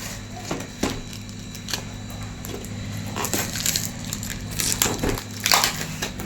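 A knife cutting open a package, with crisp crunching and tearing cracks in irregular bursts over a low steady hum, close by and without talk.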